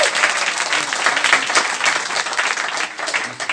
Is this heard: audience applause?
yes